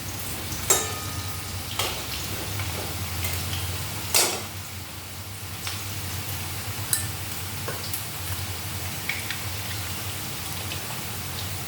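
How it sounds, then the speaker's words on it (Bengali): Food frying in a pan, a steady close-up sizzle like light rain with a few sharp spatula knocks and crackles scattered throughout, no one speaking. "দেখো প্রায় ভাজা হয়ে যাচ্ছে।"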